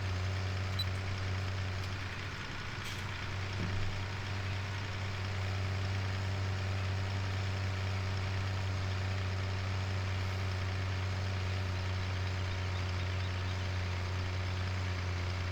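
A vehicle engine in the video game Woodshire, running at a steady low drone with little change in pitch, loud and continuous throughout.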